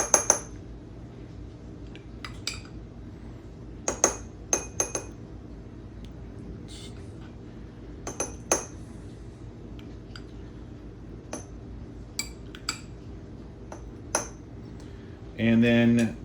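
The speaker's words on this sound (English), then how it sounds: "we're just going to get a little bit of this beef fat, and we're just going to spoon a little bit in to each" Beef fat is spooned into metal Yorkshire pudding tins, producing scattered sharp metallic clinks and taps at close range over a quiet background, with a short burst of louder noise at the end.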